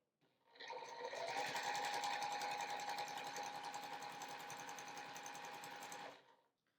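Close sewing machine runs in one steady, uninterrupted burst of rapid stitching for about five seconds while joining triangle pieces for a flying geese quilt block, then stops.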